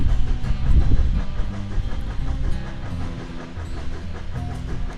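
Freight locomotive in the Railworks train simulator, lumbering along with a steady low diesel rumble and faint rhythmic clatter of wheels, a continuous loud drone with no talk over it.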